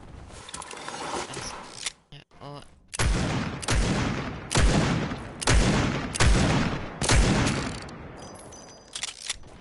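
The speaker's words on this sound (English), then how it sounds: "Next up, the scoped revolver." A scoped revolver in Fortnite fires a steady series of about seven loud, sharp shots at a slow, even pace, each crack ringing out briefly before the next.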